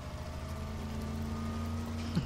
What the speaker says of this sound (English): I love the car sounds in this.